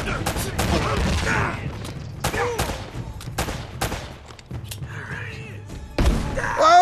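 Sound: grenade launcher fire in video game Uncharted

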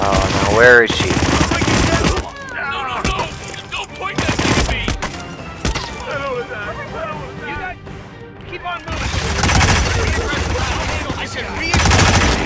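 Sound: gunfire in the video game Hitman

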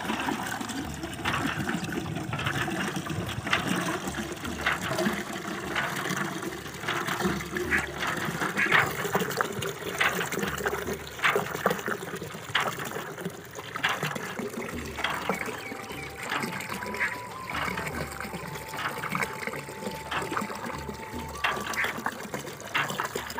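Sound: water being filled from a hand pump

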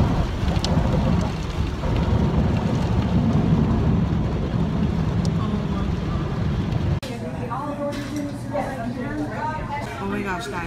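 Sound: heavy rain pouring outside

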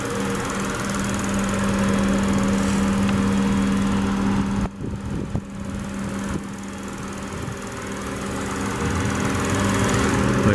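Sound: 2012 Lexus IS250c 2.5 liter V6 engine running

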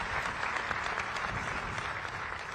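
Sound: audience applause

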